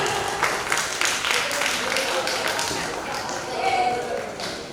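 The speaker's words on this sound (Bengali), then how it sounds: "ভেবিয়া স্কুলের ছাত্র গৌরবের জন্য একটু জোরে হাততালি হয়ে যাক" An audience at a school prize ceremony on a cultural stage in Taki claps for a student, a dense, continuous patter of applause mixed with talk over a loudspeaker.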